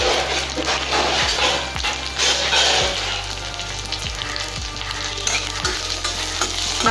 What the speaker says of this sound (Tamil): இதை கொஞ்சம் நல்லா வதக்கி விட்டுக்கலாம்.